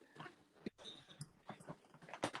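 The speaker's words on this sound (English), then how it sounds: "We're in the room with one of my dogs." A dog whimpers and snuffles faintly in a room of a house, with soft irregular whines and shuffling noises close by.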